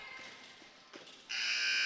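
A loud electronic end-of-period buzzer sounds abruptly at a high school basketball game between the Newport Greyhounds and Palestine Patriots, after a faint, steady gym hum.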